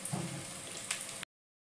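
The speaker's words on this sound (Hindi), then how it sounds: "इसमें पानी डाल दिया है" Water is poured into frying masala for a gravy, a short splashing, sizzling rush lasting just over a second before stopping abruptly, with no voices.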